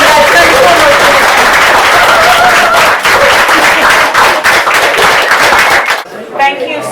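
Loud, dense applause from an audience after a guest reading at an evening literary series, a thick crackle of many hands that thins and breaks up near the end into scattered claps.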